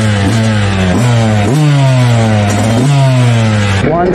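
A freshly rebuilt Yamaha YZ125 two-stroke dirt bike engine revs loudly and close by during warm-up, its pitch climbing and falling in repeated blips as the throttle is worked, with no speech.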